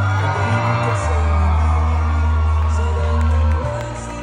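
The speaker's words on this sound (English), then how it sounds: "Give her an applause and make some noise for Layla and Nabiha" Wedding guests cheer and whoop loudly over a booming low music bed, a continuous crowd roar with scattered shouts that eases off near the end.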